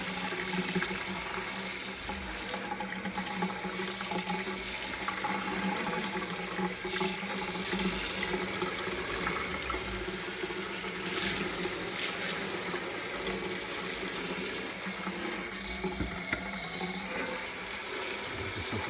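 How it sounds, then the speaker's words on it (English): Warm tap water runs steadily into a sink, rinsing a circuit board from a Commodore PET 2001-16 computer, a continuous close splashing hiss with no speech. "give it a good wash with warm water"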